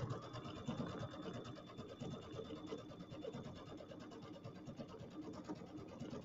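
A sewing machine runs a serpentine stitch along a fabric strip, a faint, continuous rapid whirring and clatter heard up close without pause.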